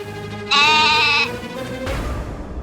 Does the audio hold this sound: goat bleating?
yes